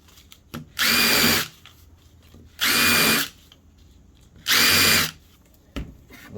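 A power drill bores holes in the side of a plastic urinal, three loud bursts of whirring, each about half a second to a second long, separated by short quiet pauses.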